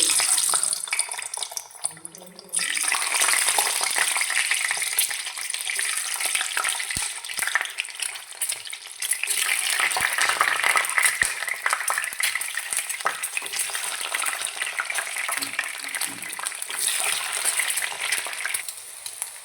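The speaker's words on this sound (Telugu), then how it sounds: "ఆయిల్ అయితే హీట్ అయిందండి ఇప్పుడు ఎగ్స్ అయితే వేసుకోవాలి" Eggs frying in hot oil for an egg and drumstick curry, a strong, steady sizzle and spatter after a short quieter start, going on for a long stretch.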